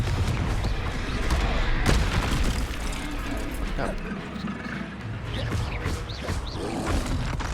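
A Confringo blasting spell going off in the Hogwarts Legacy video game, a dense, loud booming explosion with rumbling debris that fills the whole stretch, mixed with game action noise.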